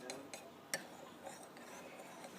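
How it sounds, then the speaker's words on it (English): A spoon stirs powder into a container of homemade green juice, giving faint, sparse clinks and light scraping against the sides in a quiet kitchen. "And just stir it up and let it dissolve real well."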